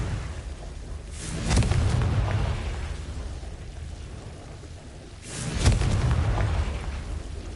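Confringo blast spell explosions in the video game Hogwarts Legacy, two separate booming bursts a few seconds apart, each with a sharp crack that rolls off into a rumbling tail.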